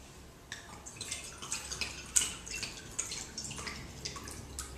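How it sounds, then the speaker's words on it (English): A cup of water poured into a well in flour for cracker dough, heard as a soft, uneven trickle with scattered drips and small splashes, fairly quiet and close, with no talking. "And we're going to add a cup of water."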